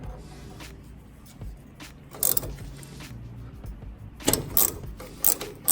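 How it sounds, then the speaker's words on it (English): An adjustable wrench works a Koni shock absorber nut on a Montero, giving scattered metallic clicks and ratchety clanks in uneven bursts, louder near the end, with no talking. "The sockets I have to fit those are too small, so I'm using an adjustable wrench."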